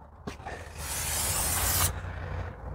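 A steady spray of brake cleaner hisses onto a new brake rotor for a Ford Flex, a loud continuous burst lasting about a second, preceded by a brief click and followed by a quieter tail.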